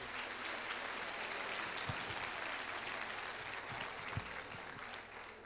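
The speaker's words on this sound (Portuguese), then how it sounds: "Então pode bater palmas para a doutora," Steady, fairly quiet applause from a physiotherapy conference audience, a continuous wash of many hands clapping with a few sharper claps standing out and no talk over it.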